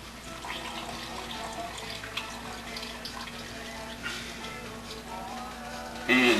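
Clam juice drains from a partly opened can onto chopped vegetables in a steady, close trickle with faint drips, then a louder splash right at the end.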